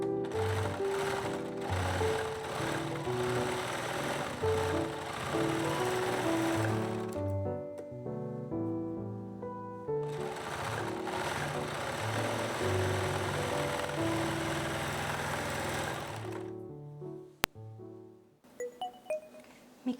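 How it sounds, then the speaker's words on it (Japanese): An overlock serger stitches the shoulder seam of an A-line dress bodice, running in two long steady whirring bursts with a pause between, then stopping, followed by faint handling sounds. "身ごろの肩にロックミシンをかけます。"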